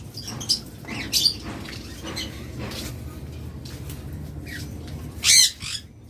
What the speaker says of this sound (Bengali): যারা গ্রে কোকাটেল নিতে চান তারা এই জোড়াটা নিতে পারেন